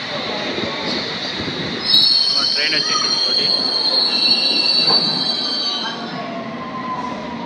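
A London Underground train in Tower Hill station gives a loud, sustained high wheel squeal over its rolling rumble, fading slightly near the end.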